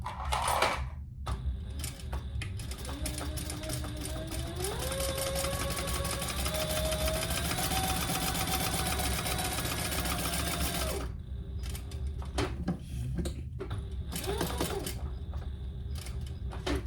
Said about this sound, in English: And then I'm going to sew